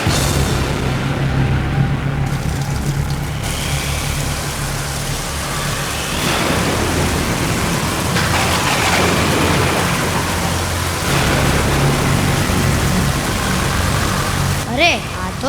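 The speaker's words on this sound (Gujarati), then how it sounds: "મેઘો પ્રલય વરસાવો." A rain and storm sound effect plays during a school annual-function stage play, a steady loud hiss of rain with low rumbles like thunder, mixed with voices from the stage.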